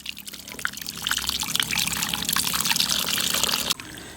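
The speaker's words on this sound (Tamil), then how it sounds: "தேவையான அளவு தண்ணி சேர்த்துக்கிடுவோம்" Water pours steadily into a pan of fish curry with tamarind and ground masala, a continuous splashing trickle close by that cuts off abruptly near the end.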